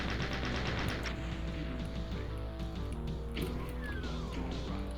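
Rapid weapon fire in Doom II on the MarsWar WAD, a dense, continuous rattle of shots over a steady droning game soundtrack, loud and unbroken throughout.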